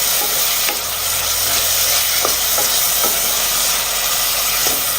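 Curd being stirred into a frying egg mixture in a cooker over a low flame, a loud continuous sizzle and hiss punctuated by several soft scraping strokes of a spoon.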